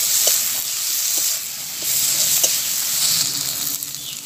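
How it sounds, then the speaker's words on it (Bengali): Chopped tomatoes dropped into frying spices in a pan set off a loud, continuous sizzle and hiss close up. A few faint stirring taps sit on top of it, and nobody speaks. "এবার আমি এর মধ্যে দিয়ে দিলাম টমেটো কুচি।"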